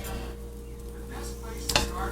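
Frozen meat being chopped apart in a pan while cooking spaghetti sauce: a steady kitchen bed of pan noise with a sharp scraping clatter near the end.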